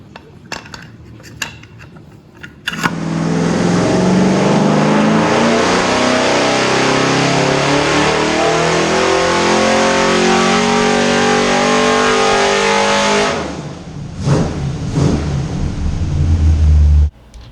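A car engine on a dyno fitted with a 2-inch open carburetor spacer revs hard in one long, loud sustained pull for about ten seconds, then drops off with a few shorter blips near the end, with no talk over it.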